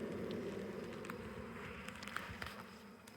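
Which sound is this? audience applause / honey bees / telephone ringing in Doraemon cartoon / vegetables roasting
honey bees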